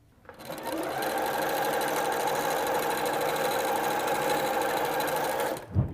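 A sewing machine runs in one continuous, rapid stitching burst while sewing quilt binding strips into a chain, starting up, holding a steady whir for about five seconds, then stopping with a soft clunk.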